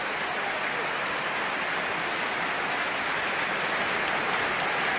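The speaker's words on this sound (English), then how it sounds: "applause from the Hearts supporters for a 14-year-old lad who's been very much under the weather" Hearts supporters in a football stadium applaud during a match against St Johnstone, a broad, steady hiss of distant crowd clapping spread evenly across the stands, continuous and unbroken with no commentary over it.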